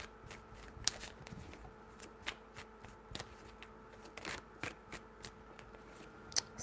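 Tarot cards are shuffled by hand, a faint close series of quick papery riffles and soft slaps in an uneven rhythm, with no talking.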